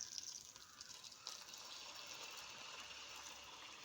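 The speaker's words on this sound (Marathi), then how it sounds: "त्यानंतर थोडंसं पाणी ओतायचं" Water pours into a pan of soaked whole masoor lentils, a faint, steady gushing splash heard alone.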